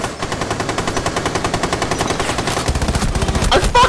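Rapid automatic gunfire in Rainbow Six Siege, a dense steady stream of shots running the whole time and growing louder and heavier near the end, with no voices over it.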